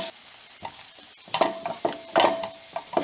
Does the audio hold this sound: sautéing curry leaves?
yes